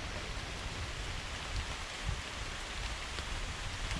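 Steady rain falling during a summer storm, a dense even hiss of drops on surfaces from close by, with no voices.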